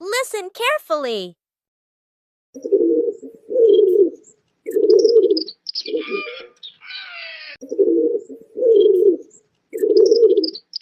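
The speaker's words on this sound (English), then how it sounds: "It's a pigeon." Pigeon cooing in a steady series of soft, low, rounded calls, about seven in a row with short gaps, fairly close; a brief voice speaks at the start and a couple of faint chirps sit between the coos.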